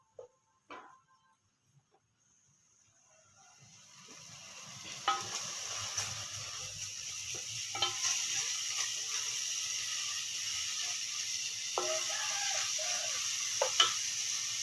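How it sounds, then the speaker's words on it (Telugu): Spice paste frying in a pan sets up a steady close sizzle that builds from near silence after a few clinks, with occasional utensil taps and stirring scrapes over it. "ఇది కొంచెం వేగనిద్దాము. వేగి మంచి వాసన బయటికి రావాలి"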